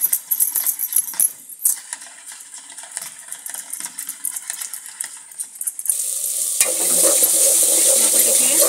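Egg and potato mixture for anda aloo sabzi being beaten, with scraping, clinking strokes that continue for several seconds before a louder, steadier sizzling wash takes over near the end; no talking.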